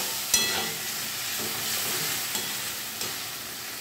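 Chili, cumin and ginger pastes fry in a pan for a Bengali bhetki fish dish with potatoes, giving a steady close sizzle with a few sharp stirring clinks and scrapes.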